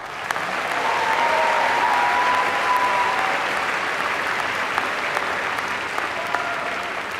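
A large graduation audience at the Stanford Graduate School of Business diploma ceremony applauds steadily for about seven seconds, a dense, even roar of clapping with a few faint tonal traces above it.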